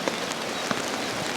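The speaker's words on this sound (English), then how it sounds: "Horrendous amount of rain." Heavy rain pours onto a camping tent, producing a dense, continuous patter with a few louder individual drops striking the fabric close by.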